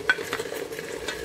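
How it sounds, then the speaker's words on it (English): Garlic and lemongrass stirred and mixed in a hot pan, a short burst of sizzling with a few quick scraping strokes of a utensil, close and without voices. "Ihalo-halo natin lahat, guys."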